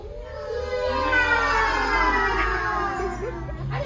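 Person in a French laughter yoga session imitating a cat with a long, sliding, wavering meow, loud and close, rising and falling in pitch for a few seconds.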